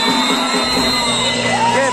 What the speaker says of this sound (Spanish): ¡Regálenme aplausos para estos equipos!